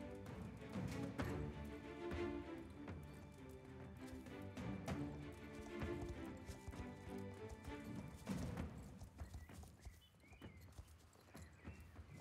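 Horse hooves clip-clop steadily in the Star Stable video game, a continuous walking rhythm mixed with soft game background music.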